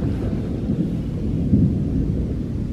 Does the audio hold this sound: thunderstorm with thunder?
yes